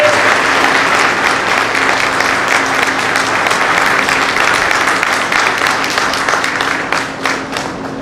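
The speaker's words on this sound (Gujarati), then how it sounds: "એવા ઓમ પ્રકાશ કોરાજીને આપણે તાળીઓના ગગડાટથી વધાવીએ" A crowd at a book launch ceremony claps loudly and continuously, a dense wash of applause that holds steady before thinning slightly near the end.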